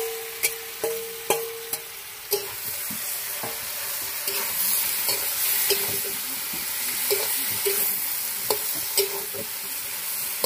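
Pumpkin and fried fish are stirred in a pan with a soft sizzle underneath, while sharp clinks and scrapes of a spatula against the pan come in short bursts at the start and toward the end.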